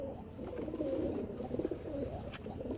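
A jet-black Kala Bombay running pigeon coos steadily in a low, murmuring rhythm, close by, with a faint background hiss and no talk over it.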